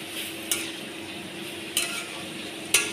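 Chicken pieces being sautéed in a pan, a steady close sizzle with three sharp spoon scrapes and stirs spread across the few seconds, no talk.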